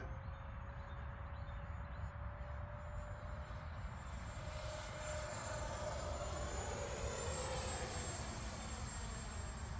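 A FlyFans twin 64mm ducted-fan Su-27 Flanker RC jet flies overhead, a steady loud turbine-like roar and high whine that swells slightly as it passes, continuous with no voices.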